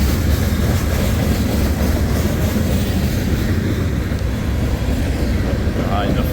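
A BNSF freight train rolling through near Sioux City, giving a loud, continuous rumbling roar of wheels and cars that holds steady throughout, close by.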